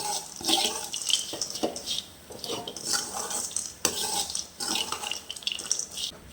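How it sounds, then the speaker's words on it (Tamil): Bitter gourd fry gets stirred with a ground coconut mixture in a pan, a spoon scraping and clinking against the metal in steady repeated strokes, close and moderately loud, with soft sizzling between the scrapes and no talk. "சேர்த்து எல்லாத்தையும் நம்ம இப்போ நல்லா கலந்து விட்டுக்கலாம்."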